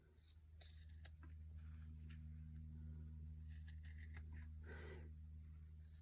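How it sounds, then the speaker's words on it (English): Scissors snipping the corners of a sewn fabric piece, several crisp separate clips spaced irregularly over a low steady hum, close and quiet, with no talking. "So let's clip the corners."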